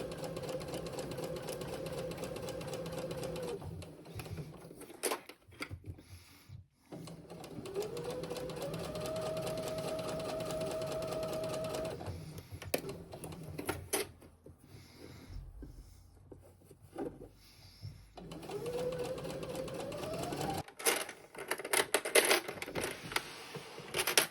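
A sewing machine stitching a bucket hat seam runs in several long whirring bursts with a rapid mechanical clatter, stopping briefly between runs while the fabric is repositioned.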